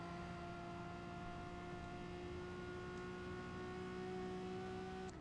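A racing car in a sim racing game, an Auto One community series race, drones with a steady, even engine whine at a constant pitch, held at moderate level with no speech over it.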